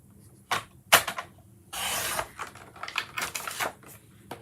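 Paper card being trimmed for a pocket album project, close crisp snips and a longer scraping cut amid small tapping handling noises, with no talk.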